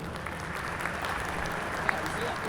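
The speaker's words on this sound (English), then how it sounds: "I think Grant was just jealous of Chris's applause" Steady applause from an audience, a dense wash of clapping hands held at an even level throughout, with no voices standing out.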